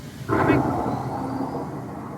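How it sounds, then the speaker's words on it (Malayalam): An artificial thunder sound effect in an indoor rainforest display, a low rumbling roll that swells suddenly and then lingers as a steady dull rumble, with a faint voice underneath. "ഓ ഇടിമിന്നൽ ശബ്ദം, അതിനിടയ്ക്ക് ഒരു റെയിൻബോ വരുന്നു."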